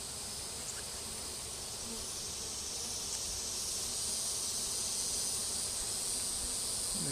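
Honey bees swarm at an open hive during an inspection seven weeks after a swarm capture, giving a steady, dense buzzing hum that holds evenly throughout without any talking.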